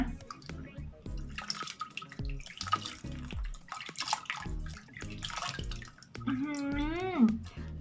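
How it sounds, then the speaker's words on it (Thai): Water splashes in irregular bursts as hands scoop it onto a face at a sink, close and fairly soft, with drips between splashes and a brief hummed vocal sound near the end. "แล้วก็ขออนุญาตล้างหน้านะ กลัวมันเปียกกล้อง"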